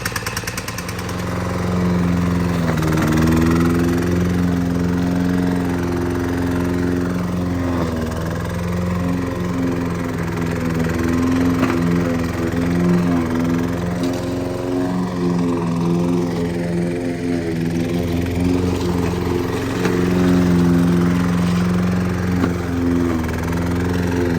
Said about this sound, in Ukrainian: Заливаю бензина і вперед. Завелося доволі легко. Зараз трошки пригріється і буду косити.